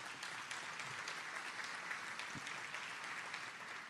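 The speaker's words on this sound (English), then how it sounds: "Let's give them a big round of applause." Faint, steady applause from a crowd at a business address event, a dense patter of clapping that continues evenly throughout.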